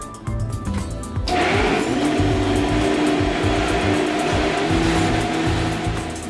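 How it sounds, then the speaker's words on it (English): Kitchen mixer switching on and running steadily while mixing fruit, a loud continuous whirring motor drone that holds its pitch after a brief startup. "now we're going to turn our mixer back on"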